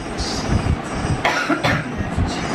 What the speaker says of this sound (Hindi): इनको हुई है खांसी,